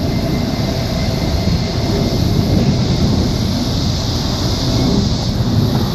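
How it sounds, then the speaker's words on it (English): A train rumbles in the distance near a river bridge, a steady broad low roar that holds unchanged throughout with no talking. "Got a train down yonder."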